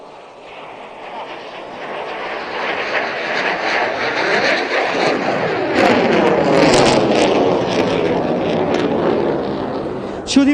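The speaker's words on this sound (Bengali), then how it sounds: "আপনাদের দৃষ্টি আকর্ষণ করছি ডান দিকে প্যারেড গ্রাউন্ডের দক্ষিণ আকাশে MiG-29টি প্রদর্শন করবে" MiG-29 fighter jet flying a slow speed handling manoeuvre at an air show over a national parade ground, a loud, swelling jet roar that builds steadily over several seconds and holds near, with faint background voices.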